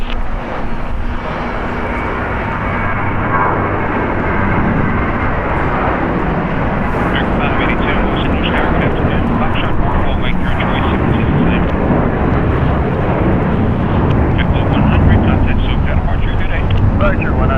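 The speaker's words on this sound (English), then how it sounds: "Departing here on the south side is JetBlue Airways, Flight 100, going to Fort Lauderdale. It's an Airbus A321" A JetBlue Airways Airbus A321 jet departs on the south side of LAX, its engines a loud, steady roar that builds and holds for the whole stretch, with wind buffeting the microphone.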